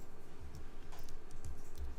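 Computer keyboard keys are tapped during InDesign layout work, a run of quick, close clicks in an uneven rhythm over a quiet hum.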